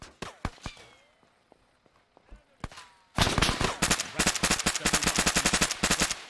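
Gunfire in the Arma 3 video game: scattered single shots and distant cracks give way to a loud, rapid burst of sustained automatic fire that keeps rattling to the end.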